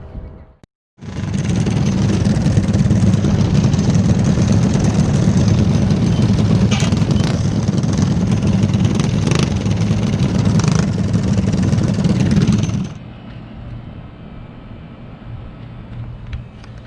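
A racing kart with a fresh engine roars steadily and loudly at a dirt track while heading to staging for the main event, then drops to a much quieter idle for the last few seconds.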